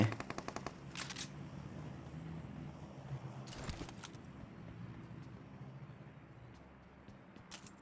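Distant automatic gunfire in PUBG Mobile, a quick rattling burst at the start followed by a few scattered shot bursts over a low ambient rumble, fairly faint overall.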